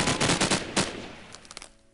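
Rapid bursts of video game gunfire aimed at a mushroom mob in a Minecraft-style modpack: a dense run of loud shots for about a second, then a few scattered, fainter pops trailing off, with no talking.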